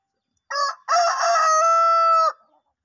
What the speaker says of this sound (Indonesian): Jadi seperti ayam kontes ini ya suaranya